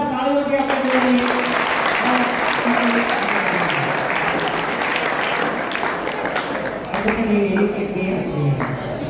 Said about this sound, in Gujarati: આજની વિજેતા ટીમ જે સી ટીમ છે એને જોરદાર તાળીઓથી આપણે બોલાવીએ